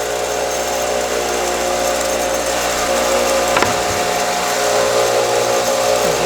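A dado stack on a 12-inch table saw cuts through black walnut with a loud, steady whine and grinding buzz that runs throughout, changing tone briefly partway as the board clears, with no talking.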